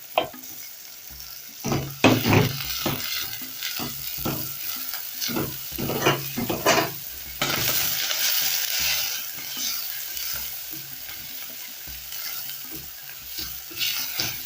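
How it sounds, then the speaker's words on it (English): Garlic and ginger sizzle with translucent onions in a pan, a steady close frying hiss broken by repeated scraping and clacking stir strokes. "Now that this is how I like it, translucent, I'll go in with my garlic and ginger."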